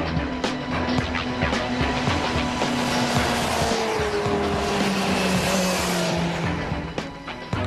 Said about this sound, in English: You crack a throttle on an MV that's singing a different song.